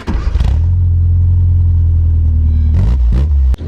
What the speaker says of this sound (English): Let's start her up, Blaze.